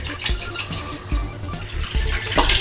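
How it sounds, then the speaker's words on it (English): Tap water running into a 3-gallon stainless steel container for homebrewing a ghost pepper stout, a loud rushing fill with uneven surges and metallic splashing that stays close. "let's get some water into this 3 gallon stainless steel container here"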